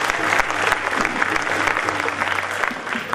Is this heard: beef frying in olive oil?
no